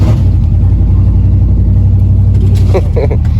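A van with a blown-out exhaust drones loudly and steadily, a deep rumbling engine note dominating throughout with a faint rattle near the end.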